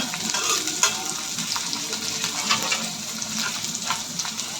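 Steady sizzling of vegetables frying in a pan, with intermittent scraping and clatter as they are stirred, close and fairly loud.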